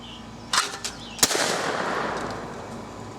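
A Savage 220 A shotgun fired outdoors: one sharp, loud blast followed by a long rolling echo that fades out, with a couple of lighter mechanical clacks just before it.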